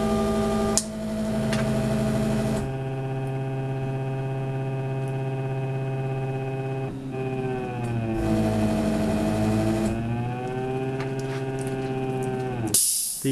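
A cake icing machine's motor positions the icing needle, giving a steady humming whine with layered tones that shift in pitch midway and drop off near the end. It is loud and continuous, with no talking.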